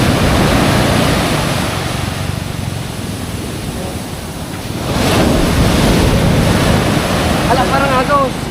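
Rushing water current surges in a steady, loud broadband wash, dipping briefly midway and then swelling again, with wind buffeting the microphone and faint voices underneath.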